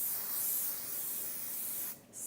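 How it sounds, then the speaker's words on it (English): CHI Ultimate Control hairspray sprayed onto hair in one steady, close hiss lasting about two seconds, then breaking off briefly before a short final burst. "So I'm going to go in and just do a quick"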